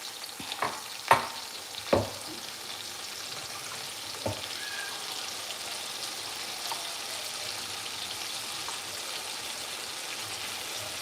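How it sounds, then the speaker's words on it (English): Onions fry in hot oil with a steady close sizzle, a few sharp pops and clatters from stirring early on, then continuous even crackling with no talk. "So our oil is hot. Let's fry the onions"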